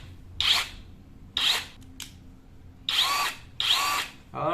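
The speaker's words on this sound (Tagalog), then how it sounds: "Ito yung ating impact wrench na unang in-order." A Makita cordless impact wrench runs in four short bursts with pauses between, each a loud whirring, hammering whine up close, with a brief click partway through and a fifth burst starting at the end.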